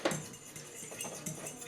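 Steak kabob marinade of water, oil and seasoning mix being stirred in a bowl, giving light clinks and scrapes of a utensil against the bowl over a brief span, faint, with soft kitchen background.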